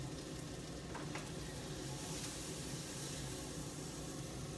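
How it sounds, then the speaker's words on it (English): Peppers frying in a pan, a soft continuous sizzle and hiss heard at low volume with faint stirring. "But they're still sizzling."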